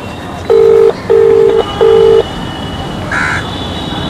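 A mobile phone call being placed: three long, loud ringback tones in steady sequence, then a brief higher electronic blip as the line connects, with faint background hiss and no voices.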